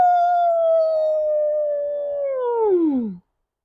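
A single human voice imitates a long wolf-like howl at the moon, holding a steady sustained tone before sliding downward and cutting off abruptly, loud and close with no other sound.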